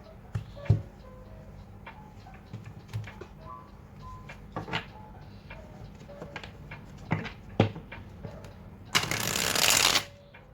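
Mermaid Tarot cards handled with scattered soft taps and clicks, then a brief, loud riffle shuffle near the end, close and clear in a quiet room.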